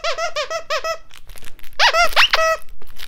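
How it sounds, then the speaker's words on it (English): A squeaker inside a dog toy from a subscription box squeaks in quick bursts: three rapid squeaks, a pause with rustling, then several louder, sharper squeaks close by. "this one has a squeaker"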